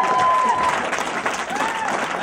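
An audience applauds a singer at a conference, a dense burst of clapping filling the room, with a faint voice heard over it.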